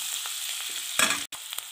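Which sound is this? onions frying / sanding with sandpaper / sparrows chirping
onions frying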